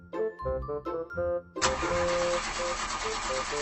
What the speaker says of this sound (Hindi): गाड़ी चल ही नहीं रही थी